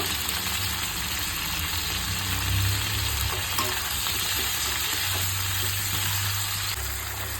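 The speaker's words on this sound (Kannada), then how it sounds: "ಟೊಮೆಟೊ ಎಲ್ಲ ಚೆನ್ನಾಗಿ ಫ್ರೈ ಆಗೋ ಥರ ಹುರ್ಕೊಂಡು" Tomatoes fry in oil for a chutney, making a steady, dense sizzle with a faint hum underneath that continues unbroken.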